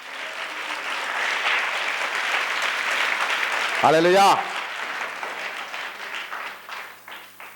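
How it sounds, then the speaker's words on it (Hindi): A congregation at a Hindi-language church service applauds in praise, with sustained dense clapping throughout and a single voice calling out loudly partway through before the applause slowly tapers off. "तो ताली बजाएगी प्रभु के महिमा करे"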